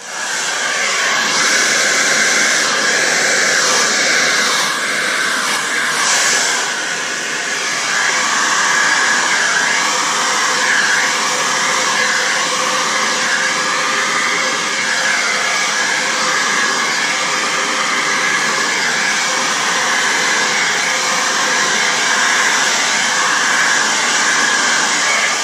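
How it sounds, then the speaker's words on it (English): A blow dryer roars continuously at close range, a steady loud airy hiss and whine that holds unbroken throughout with no talking. "Blow dryer"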